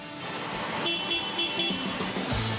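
Fire engines at the Montélimar fire station drive out of the yard with steady engine rumble and road noise, a faint high tone running through, and no talk over it.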